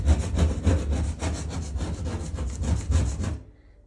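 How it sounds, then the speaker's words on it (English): Plastic scraper scraping residue off a porcelain bathtub in rapid rhythmic back-and-forth strokes, a close, gritty rasping that goes on for about three seconds and then stops. "So all you do is scrape and watch it fall."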